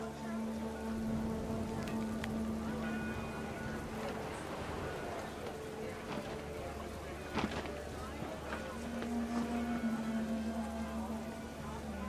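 Heavy rain pours down in the video game What Remains of Edith Finch, a steady unbroken hiss over a low droning hum.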